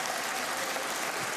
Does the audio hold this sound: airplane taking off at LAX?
no